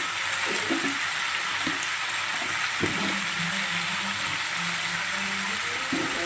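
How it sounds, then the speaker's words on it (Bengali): Potatoes sizzle and fry in a pan while being stirred for Bengali white aloo chorchori: a steady, loud hiss of oil with occasional scraping stirs throughout. "আমি আলুটা একটু নেড়ে ছেড়ে নিয়ে একটু স্বাদ মতন নুন দিয়ে দিচ্ছি"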